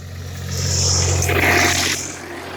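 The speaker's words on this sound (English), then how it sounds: "I like these old tractors here." An old Yugoslavian tractor engine rumbles at a steady low idle, swelling briefly as it works, heard fairly close with no speech.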